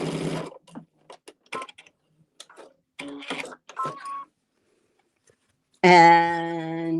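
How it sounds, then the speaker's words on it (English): A sewing machine stitches quilt blocks with a white center in short, stop-start bursts, followed by a sustained voiced tone at the end; a person speaks briefly. "we're going to sew those so that we have a center"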